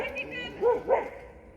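A dog gives two quick barks close by in woodland, with faint background noise around them.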